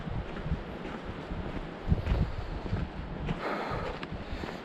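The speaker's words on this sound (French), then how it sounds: "je sais pas si tu vas entendre beaucoup là avec le vent" Strong wind blowing outdoors near the sea, a steady broadband roar with gusty surges and buffeting against the microphone throughout, no voices.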